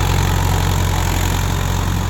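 A tractor engine runs steadily nearby, a loud, low, even drone with a constant throb that carries on unbroken and without talk.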